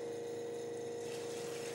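Water flowing steadily into a household water filter, a continuous even rush with a constant pump-like hum, close and unbroken with no talking.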